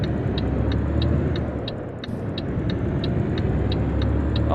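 Volvo truck engine in Euro Truck Simulator 2: a steady, low, continuous engine drone and road rumble with faint regular ticking on top, no speech.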